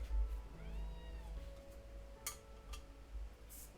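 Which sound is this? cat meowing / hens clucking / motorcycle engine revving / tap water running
cat meowing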